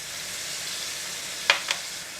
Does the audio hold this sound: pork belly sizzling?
yes